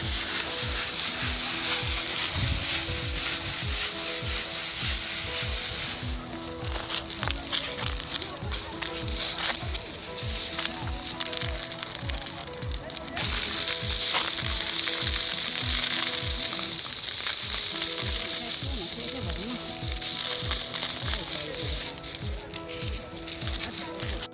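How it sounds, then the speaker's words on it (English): Dried hibiscus flowers are shaken through a sieve to remove dust, producing a continuous dry rustling and rhythmic scraping that stays close and loud throughout. "Sieving separates the flowers from the dust and impurities."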